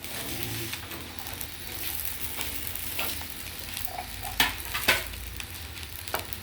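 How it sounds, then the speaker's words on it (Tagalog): Food sizzles and fries steadily in a pan for a Filipino breakfast of fried rice and embutido, with a continuous hiss broken by a few sharp clinks of a utensil against the pan. "Magpiprito tayo."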